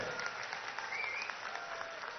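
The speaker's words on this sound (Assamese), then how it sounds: "পীযুষ হাজৰিকাৰ কাৰণে এটা দীঘলীয়া হাত হাততালি" Faint, distant audience applause for Piyush Hazarika at a bridge inauguration event, a steady patter of clapping hands lasting a couple of seconds with no talk over it.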